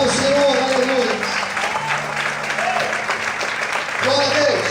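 A church congregation applauds during a sermon, a loud wash of clapping running throughout while a voice and sustained tones carry over it.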